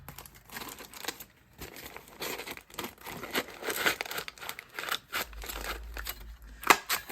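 Scissors snip through folded paper in a run of short, close, crisp cuts with rustling and crinkling of the sheet between strokes, fairly quiet and with no talk.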